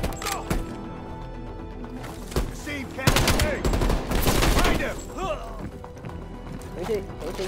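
Automatic rifle fire crackles in bursts during a Call of Duty Black Ops Cold War campaign mission, loud rapid volleys over a steady hum of game sound, with a voice talking in between.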